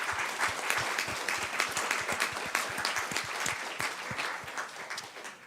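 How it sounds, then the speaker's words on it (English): An audience at a panel discussion on democracy and the rule of law in Europe breaks into steady, moderately distant applause, the claps dense and sustained throughout. "please join me with applauding our great panel"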